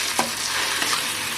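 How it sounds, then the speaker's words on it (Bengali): Ground cumin, coriander and a little chilli powder being stirred and fried in a pan, a soft continuous sizzle with a couple of brief scraping strokes, close up and alone. "মশলাগুলো মিক্স করে নিতে হবে। একদম হালকা মশলা দিয়েছি, এটা করে বাদামি কালার করে ভেজে নেব।"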